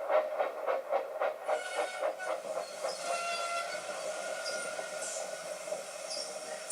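A steam tank engine puffs into a station with a run of close, rhythmic chuffs that slow and soften into a steady hiss, while faint high squeals rise over it.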